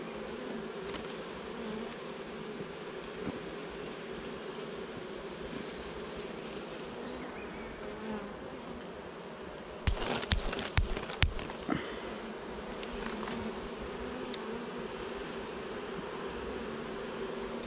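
Honeybees buzzing steadily throughout a hive inspection, a dense close drone with a brief burst of clicks and knocks from handling the hive partway through.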